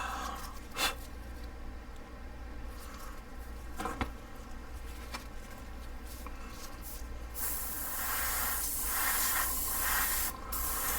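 A steady hiss of black spray paint runs continuously, with a few soft knocks early on and the spray growing brighter and louder near the end.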